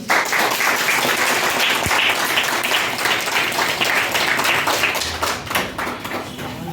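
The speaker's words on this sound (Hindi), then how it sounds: "चलिए इनके लिए जोरदार ताली।" Loud, dense applause fills the room for a student at a coaching-centre gathering, many hands clapping steadily and close, holding strong before easing slightly near the end.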